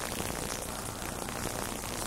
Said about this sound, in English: We've had enough rain for one day.